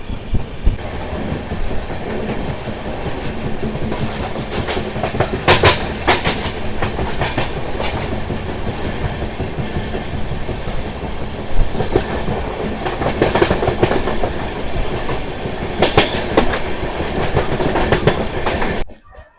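An express train rumbles steadily along the tracks at speed between Ongole and Nellore, with rhythmic clacking of wheels over rail joints and a constant roar throughout.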